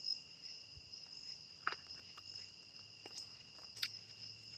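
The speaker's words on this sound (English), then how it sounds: "The crickets and everything are insanely loud tonight." Crickets chirp in a steady, high, continuous chorus on a quiet night outdoors, faint overall, with a few soft clicks and small knocks close by.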